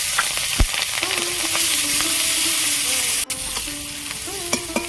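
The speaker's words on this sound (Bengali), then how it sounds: "মাছ ভাজার ওই তেলের মধ্যে পেঁয়াজ কুচিয়া লঙ্কা কুচি দিয়ে দেবো" Chopped onions and chilies sizzle loudly in hot oil left from frying fish, with steady frying hiss, occasional stirring clinks and a sharp knock partway through.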